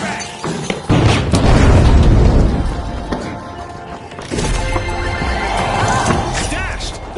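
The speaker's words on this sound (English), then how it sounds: "Using a flashbang." A flashbang grenade goes off in The Finals as a loud, close boom that gives way to a crashing rumble, followed by a second surge of game noise while a voice speaks over it.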